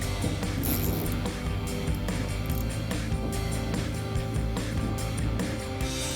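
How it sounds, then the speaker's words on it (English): A hand ratchet loosens fender flare fasteners on a 2010-2018 RAM 2500 pickup, giving steady mechanical clicking and rattling close by, with no talking. "Now we'll go to our ratchet and get the ones on the side that we can't get with our impact driver."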